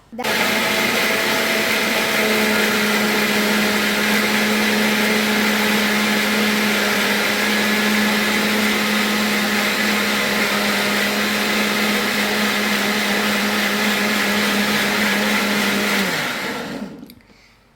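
A mixer grinder blends mango juice with a loud, steady motor whine that runs unbroken for about sixteen seconds, then winds down and stops near the end.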